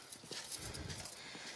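Horse hooves charging down the lists at a jousting show at a fair, a rapid rolling drumming of gallop beats on dirt heard at moderate distance amid faint crowd noise.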